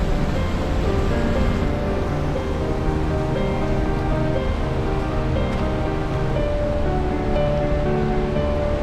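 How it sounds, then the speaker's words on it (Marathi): Gokak waterfall on the Ghataprabha river roars in a rocky gorge, a dense, unbroken wash of falling water at steady loudness, with no voices. "त्याच्यामध्ये हा घटप्रभा नदीवर असलेला हा गोकाक वॉटरफॉल आहे"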